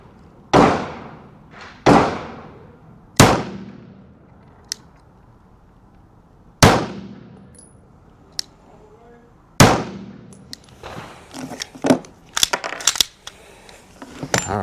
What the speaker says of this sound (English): Let's give it 3 more rounds and see where we're at.